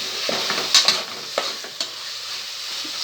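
Vegetables for a vegetable biryani sautéing in a pan, with a steady sizzle under a few sharp scraping stirs of a spoon; no talking.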